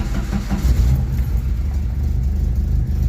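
A 1986 Jeep Comanche parts truck's engine runs with a low, steady rumble, close and fairly loud, holding a constant idle-like drone with slight fluctuations and no voices.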